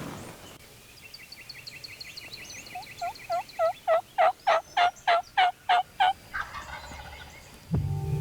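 A wild turkey gobbles in a rapid burst of about a dozen loud, rolling calls, fairly close, with quieter bird calls before it and outdoor spring ambience.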